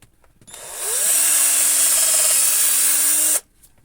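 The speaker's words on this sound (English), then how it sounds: "where I'm going to drill a hole in the bottom." A power drill bores a hole into a wood slice for a snowman decoration, giving one loud, steady high whine that lasts about three seconds and then cuts off abruptly.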